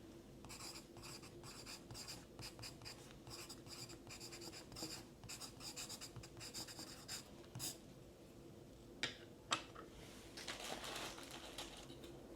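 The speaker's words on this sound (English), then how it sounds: "So let me just write it down also." Pen scratching on paper in a quiet bookstore setting, close and soft, with quick strokes and short pauses, a couple of small taps near the end.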